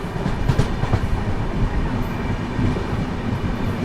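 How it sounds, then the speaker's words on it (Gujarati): The Porbandar–Motihari Express, a long-distance Indian train running via Jamnagar, rumbles along the track with a loud, continuous low roar and faint rhythmic clatter of wheels. "લાંબા રૂટની ટ્રેન છે,"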